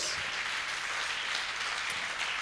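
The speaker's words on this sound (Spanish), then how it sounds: "¿Cuántos le dan un aplauso a Dios?" Applause from a church congregation during a Spanish-language Christian service, an even, fairly quiet wash of many hands clapping at a distance without pause.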